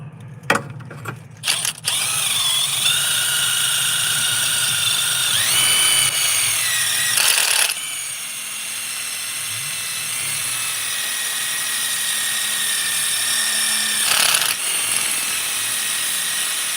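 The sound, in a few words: wire wheel on a power tool cleaning a Mercedes CLA250 alternator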